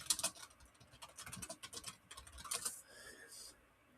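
Quick bursts of typing on a computer keyboard while entering text into an Excel spreadsheet, with close, light clicking keystrokes in an uneven rhythm that fades toward the end.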